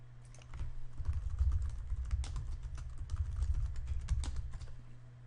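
Quiet, close clicking of computer keyboard keys as a passphrase is typed, a steady run of soft taps lasting several seconds with no talking.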